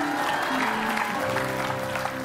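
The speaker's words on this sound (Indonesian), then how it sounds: "Tepuk tangan sekali buat Juna." Studio audience clapping for Chef Juna, a dense, even burst of applause at close range that holds steady throughout.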